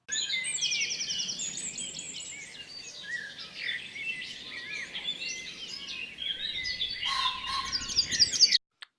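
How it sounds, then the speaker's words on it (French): Birds sing and chirp in a spring park, with many overlapping calls and twittering at moderate distance, continuous and fairly bright with no talk. "Elle observait les oiseaux et écoutait leurs chants."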